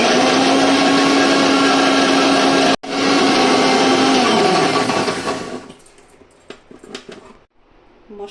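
Electric kitchen grinder blending spices with a little water into a paste for paneer lababdar, a loud steady whir with a brief cut, then winding down to quiet clatter.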